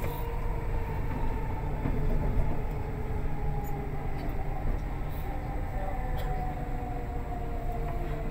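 A Dubai Metro train runs with a steady, loud rumble heard from inside the carriage. The rolling noise holds constant throughout, with no talking.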